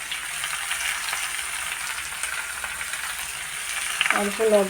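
Leafy greens sizzle and crackle as they fry and are stirred in a pan, with a continuous close sizzle and a short voice near the end.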